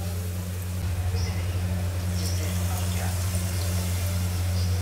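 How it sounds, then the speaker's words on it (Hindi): Water pours from a glass into a cooker holding 750 grams of potatoes and spices, a soft continuous splashing rush over a constant low hum. "और अब हम डाल देंगे इसमें पानी,"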